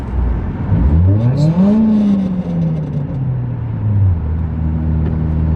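Project car with a 7,000 RPM power band and a raspy, rally-style exhaust, revving up, holding and easing back down in one loud close pass of engine sound, then settling to a rough idle.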